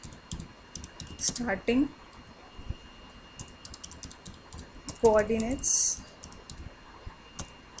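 Typing on a computer keyboard while writing C code, with scattered light key clicks through the clip and a person speaking over them at two points.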